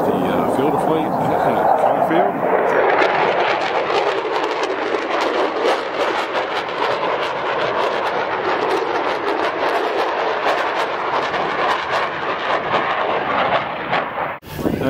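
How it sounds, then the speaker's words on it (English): U.S. Air Force Thunderbirds jets roar over an RV park at an air show, a loud, sustained broadband rumble with a steady wash of noise throughout, ending abruptly. "Now we got the U.S. Air Force Thunderbirds practicing over the RV park"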